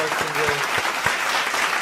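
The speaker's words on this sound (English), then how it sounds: "Let me get your applause as well, Marcus." Applause sound effect played during a sports podcast, a burst of dense crowd clapping at steady loudness that fills the moment, with a voice briefly overlapping at the start.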